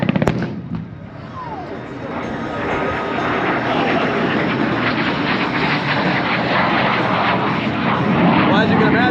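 A military airplane makes a low strafing pass at a Southern California airshow, its loud engine roar building and holding steady, with sharp crackling pops like simulated minigun fire layered over the drone.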